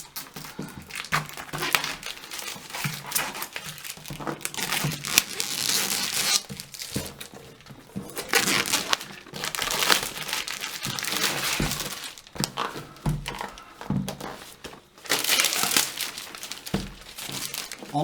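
Varmilo Sword 2 68 keyboard box being opened by hand without cutting, with steady crinkling and crumpling of packaging material close by, coming in bursts with short pauses and no talking.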